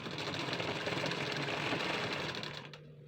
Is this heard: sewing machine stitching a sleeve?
yes